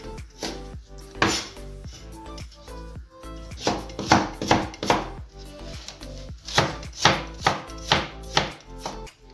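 A knife chops quince rapidly on a cutting board into small, thin pieces, like chopping an onion, a quick steady run of close, crisp strikes with brief pauses between bursts.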